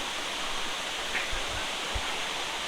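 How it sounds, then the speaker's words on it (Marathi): Steady broadband rush of falling water from Bhagirath waterfall near Mumbai, close by, with a few low thumps partway through. "चल बघू शकता धबधबा वाव"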